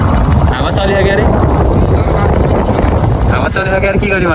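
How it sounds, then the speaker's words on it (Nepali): Steady, loud wind buffets the microphone in a mountain village, a rough continuous roar filling the whole stretch, with a faint whistle-like tone entering near the end. "हावा चलिसक्यो अरे"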